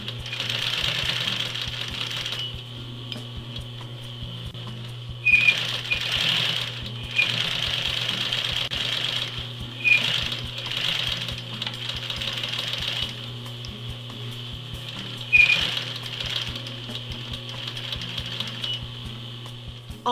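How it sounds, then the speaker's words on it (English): A sewing machine runs a line of stitching along a winter jacket zipper in several bursts of rapid, rattling clatter, pausing briefly between runs over a low constant hum. "Now I'm going to run a line of stitching close to the zipper teeth,"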